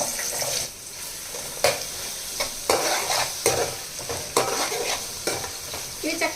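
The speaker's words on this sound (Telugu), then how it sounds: "ఇదిగోండి ఉల్లిపాయ ముక్కలు చక్కగా వేగిన తర్వాత" Long, thick-cut onion slices fry in hot oil with a steady close sizzle, broken by repeated scraping stirs of a ladle in the pan, no talking.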